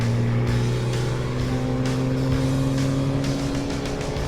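A Ram 3500 dually pickup with a Cummins turbo diesel launches at a drag strip, its engine loud and close as it revs steadily and climbs in pitch through a shift, with no one talking over it.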